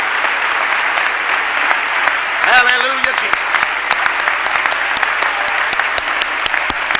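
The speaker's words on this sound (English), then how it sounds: "Clap your hands and give praise to the Lord." A church congregation applauds steadily and loudly in a sustained wash of clapping, while a voice briefly calls out over it partway through.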